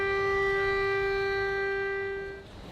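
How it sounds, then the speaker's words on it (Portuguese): Air raid siren in Ukraine warning of aerial attack, a steady sustained wailing tone with rich harmonics, distant-sounding and fairly faint, fading out at the end. "As sirenes alertam para o risco de ataque aéreo."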